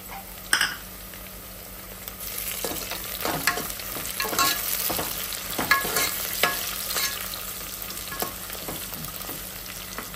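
Mutton curry fries with mint leaves in a pan, a continuous close sizzle broken by repeated scraping stirs and clinks of a spoon against the pot, with no talking.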